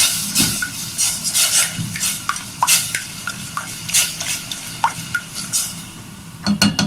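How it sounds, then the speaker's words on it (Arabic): Spoon scraping and stirring water and a cup of sugar together in a pot for homemade mawlid sweets, a steady run of close rubbing strokes with light clinks. "المية، كوباية السكر، نقلبهم مع بعض كده"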